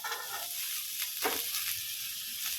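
Green peas frying and being stirred in a pan for murighanta, a steady close sizzle with a few soft scraping stirs.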